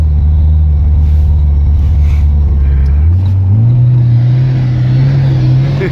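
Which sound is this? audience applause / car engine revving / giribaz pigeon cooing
car engine revving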